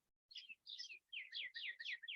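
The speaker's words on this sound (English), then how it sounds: "the beautiful bird sounds around you." Birdsong fills the air, a series of bright, high chirping phrases repeating in quick bursts, fairly close and clear against a quiet background.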